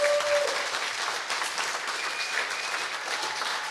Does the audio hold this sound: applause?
yes